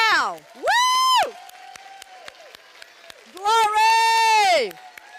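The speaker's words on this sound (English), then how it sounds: "let's just clap right now" A church congregation claps in scattered, sharp hits while loud, sustained whooping and shouting voices rise over it in two long bursts near the listener.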